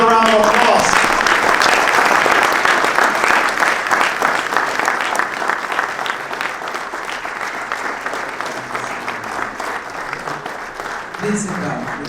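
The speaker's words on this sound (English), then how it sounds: "Another round of applause." A standing crowd at a Muslim Heritage Month gathering in Paterson gives a sustained, dense round of applause for the Sheikh, loud at first and easing slightly over twelve seconds, with voices faintly mixed in.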